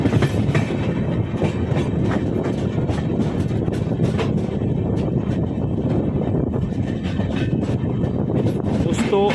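A passenger train, the Ranthambore special from Jaipur to Indore, runs along with loud steady rumble and rhythmic clickety-clack of wheels over rail joints, heard from on board with some voices mixed in.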